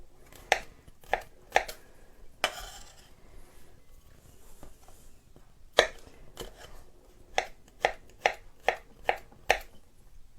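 A knife cutting food on a board, with a series of sharp, distinct chops that come irregularly at first and then in a quicker, steady run near the end, close and clear against a quiet background.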